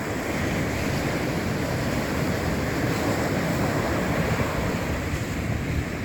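Ocean surf breaks and washes continuously along a beach, a dense roaring hiss of waves mixed with wind buffeting the microphone, with no voices.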